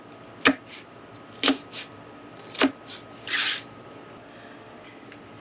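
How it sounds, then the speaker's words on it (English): Knife slicing peppers on a cutting board for dehydrating: three or four sharp, separate chops spaced about a second apart, ending in a longer scraping stroke, close and clear over a quiet room. "Cut them up."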